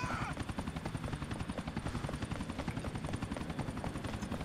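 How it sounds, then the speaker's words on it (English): A helicopter in Grand Theft Auto IV chops steadily nearby, its rotor thumping in a fast, even rhythm with a continuous engine whine layered over it. "And there's that helicopter."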